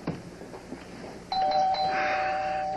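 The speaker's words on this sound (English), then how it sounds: "Ghosts don't ring doorbells, do they?" A doorbell rings once inside a house, a clear sustained chime that follows quiet room noise and rings on to the end.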